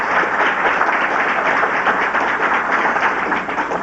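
Audience at a 1990 City Club of Cleveland forum applauding Edward Smith, dense steady applause from a large crowd filling the room, no speech.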